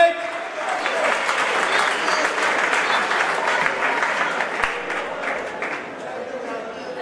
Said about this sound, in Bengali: আরে জোরে হাততালি দিয়ে আমরা রঞ্জিতকে বরণ করব